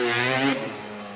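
A 1989 Honda CR250R two-stroke dirt bike with stock pipe and silencer revs hard nearby, a raspy high-pitched wail that climbs and then drops away as the throttle closes.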